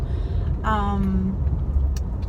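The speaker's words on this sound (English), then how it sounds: "I am in the car right now driving to work" Steady low road rumble inside a moving car on the way to work, with a brief tonal whine rising near the start; no one speaks.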